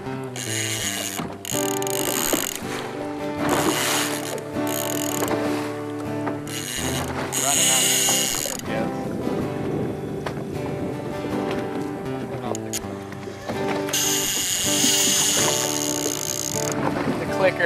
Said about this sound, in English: Clicker out so you can hear it a little bit.